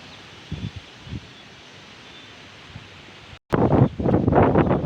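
Steady outdoor wind noise in Jafrabad, Amreli district, buffets the microphone, with a few soft gusty thumps, then grows louder and rougher in strong rushing bursts near the end.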